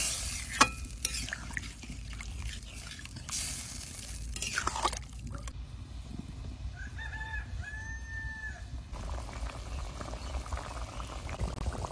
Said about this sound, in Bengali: ভাজা আলু তো ওই জন্য বেশিক্ষণ আর নাড়াচাড়া দেবো না, অল্প একটু নাড়াচাড়া দিয়ে জল দিয়ে দেবো